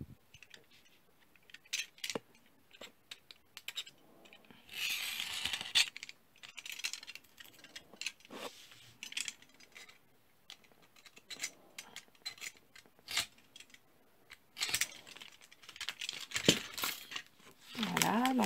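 Scissors snip open the closed top of a fabric storage pouch, with crisp cutting and rustling bursts of cloth handling spread throughout, close and moderately loud.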